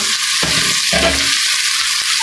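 Chicken feet, head and liver for coconut-milk adobo sizzle loudly in a pan, with a spoon stirring and scraping in bursts over the continuous frying hiss.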